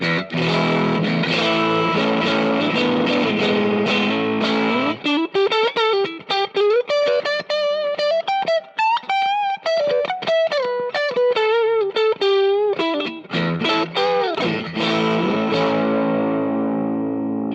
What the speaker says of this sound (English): I'm going to use the neck pickup and the middle pickup together in hum canceling